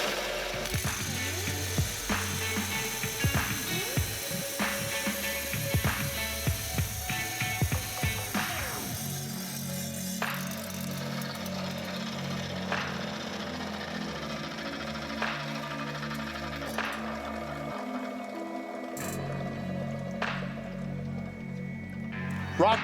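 A DeWalt wet tile saw fitted with a diamond blade slices through hard black porcelain tile, giving a steady whining grind with a strong low motor hum and scattered higher scraping bursts, loud and close throughout.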